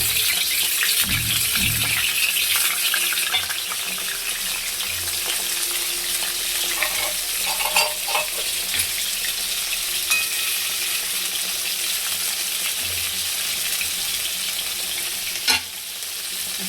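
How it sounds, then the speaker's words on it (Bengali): Pieces of pointed gourd (potol) fry in hot oil, giving a loud, continuous close sizzle that holds steady throughout, with one brief clatter near the end. "এবার একে একে পটলগুলো তেলের মধ্যে দিয়ে দিচ্ছি।"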